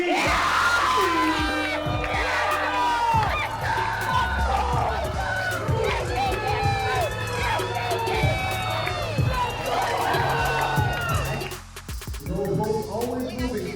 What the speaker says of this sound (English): please give a warm applause to FPG!